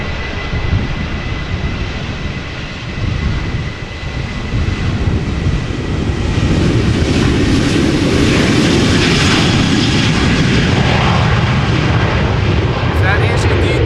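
An aircraft departing Amsterdam Schiphol Airport, a loud broadband jet roar that builds and holds steady as it climbs, with a voice talking over it.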